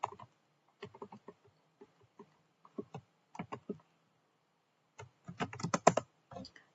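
Cisco router commands being typed on a computer keyboard in a quiet room, with scattered key clicks in short irregular bursts and a dense flurry of keystrokes near the end.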